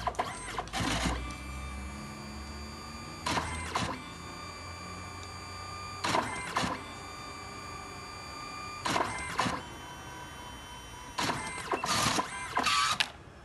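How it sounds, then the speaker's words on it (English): A wireless AirPrint printer prints a test image sent from an iPad, giving repeated mechanical whirs and clicks as paper feeds, in five or six short bursts spread evenly with quiet gaps between, and no voices. "In a few seconds, you'll get the printer to print the image."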